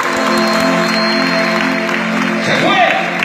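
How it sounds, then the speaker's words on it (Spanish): A church congregation claps after a prayer, a dense, loud wash of applause filling the room, with a voice rising over it near the end. "Denle fuerte aplauso a esa oración de poder."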